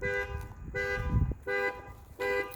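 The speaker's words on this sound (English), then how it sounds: "So I think I accidentally hit the alarm." A car alarm sounding at an Acura dealership, loud repeated electronic horn-like tones in bursts, with a steady pattern of on-off pulses and some low rumble between them.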